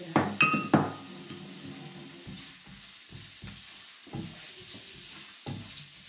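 Ginger dropped into hot oil in a pan: a few sharp clinks at the start, then a steady low sizzle that keeps going with faint stirring and pan knocks.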